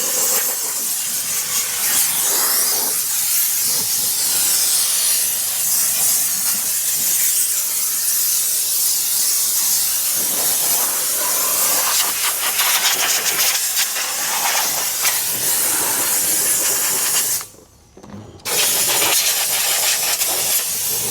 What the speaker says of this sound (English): letting the residual steam, so basically a steam overspray, hit the windows